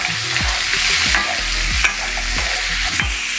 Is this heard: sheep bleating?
no